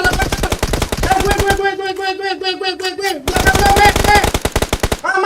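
Rapid automatic gunfire from the PUBG Mobile battle royale game, loud and close, rattling in dense bursts with a brief pause midway while game music or tones carry on.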